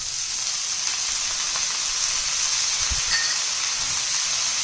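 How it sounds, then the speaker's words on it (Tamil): Onions fry in a pan, giving a steady bright sizzle and crackle that stays even and moderately loud throughout, with a faint clink near the end. "வெங்காயத்தை போட்டு வதக்கி விடுங்க"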